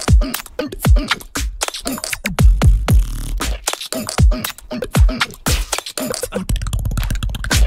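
Beatbox layered over an EDM drop in a remix of a beatbox routine, with punchy kick-like hits and crisp snare and hi-hat clicks in a fast groove, loud and up front, thickening into a dense sustained bass section near the end.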